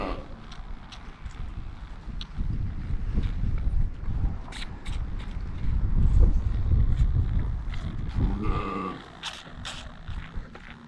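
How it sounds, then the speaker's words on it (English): Strong wind blows across an outdoor farm, buffeting the microphone in low rumbling gusts that swell and fade, with a few faint clatters and a brief tonal squeak near the end. "It's quite windy."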